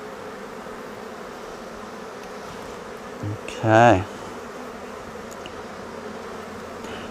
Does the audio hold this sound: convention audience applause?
no